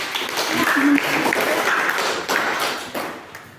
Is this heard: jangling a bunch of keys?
no